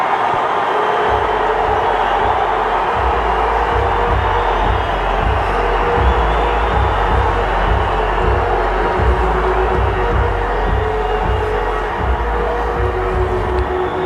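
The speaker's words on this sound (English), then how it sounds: "Now listen to the crowd." A steady, dense crowd roar fills a West Indies vs India Test cricket match in 2011, a continuous wash of cheering with a low rumble underneath and no distinct voices standing out.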